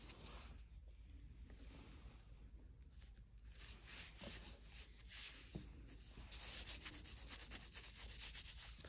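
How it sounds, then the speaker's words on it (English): Baby powder rubbed into underarm skin before waxing, a close, steady soft rubbing and brushing with rhythmic strokes over a faint hiss, no talking. "I'm gonna use a little bit of powder. I'm gonna rub that in just to absorb any moisture."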